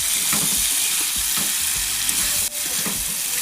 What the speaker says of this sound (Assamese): মাংসখন উঠুৱাই এতিয়া লৰাই দিম আৰু তেলটো এৰিব ধৰিছে মাংসৰ পৰা